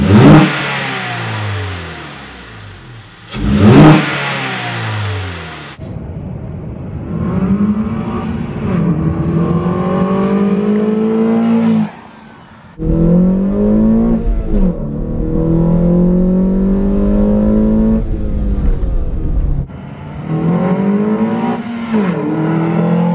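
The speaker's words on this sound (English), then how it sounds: "Now let's go ahead and see at how it sounds with the new intake." A 2014 Honda Accord engine fitted with an aFe Takeda Stage-2 intake revs loudly and close. Sharp blips rise and fall, followed by longer sustained climbs and drops in pitch, with no talk.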